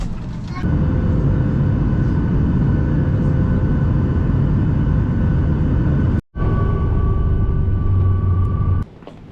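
Steady, loud airliner cabin roar during a roughly three-hour flight toward the Czech Republic, a constant broadband engine drone with a faint tonal whine, briefly cutting out once before resuming.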